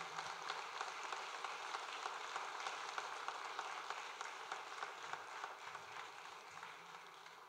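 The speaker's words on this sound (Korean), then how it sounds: "여러분 큰 박수로 축하해 주시고 성원해 주시기 바랍니다." A church congregation at an Easter dawn union service applauds a donation handover, a steady, dense wash of clapping from a large crowd that holds at an even level throughout with no voices on top.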